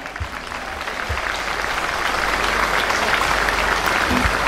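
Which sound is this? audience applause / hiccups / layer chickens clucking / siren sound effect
audience applause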